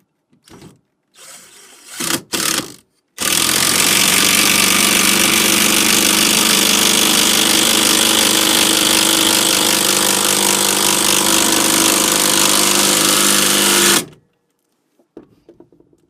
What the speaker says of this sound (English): I'm going to show you how easy it is to screw in, one of these lag screws